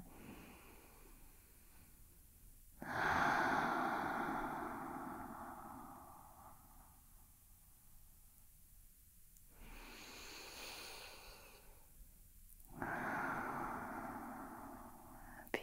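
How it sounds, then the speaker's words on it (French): Slow, deep breaths during a morning yoga flow, each long exhalation a soft airy rush repeated three times with quiet pauses between, close and gentle. "Prends encore deux respirations comme ça."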